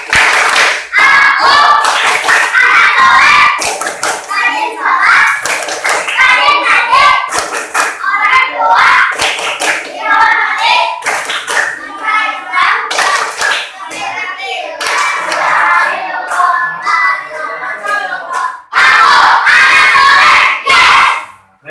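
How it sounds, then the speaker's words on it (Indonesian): Children chant the 'tepuk anak soleh' clapping rhyme in a classroom, many young voices shouting in rhythm with bursts of hand claps, loud and close, running continuously with a brief pause near the end. "kita akan tepuk anak soleh dulu"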